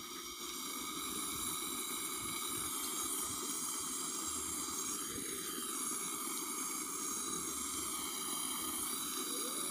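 An LPG and oxygen welding torch with a modified nozzle burns steadily outdoors in a fairly strong wind, giving a continuous close roaring hiss and rumble with no talk.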